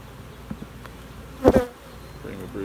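Honeybees hum around an opened overwintered nuc hive during a split, a low, faint buzz with a few soft knocks and one louder burst midway, then a bee drifts past near the end.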